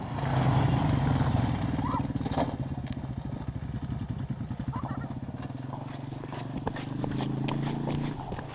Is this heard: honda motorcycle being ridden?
yes